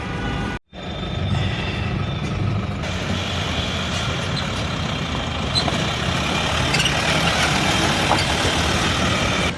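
A truck's engine idles steadily before setting off, a constant close diesel rumble with a brief dropout near the start and light clatter over it, no talking.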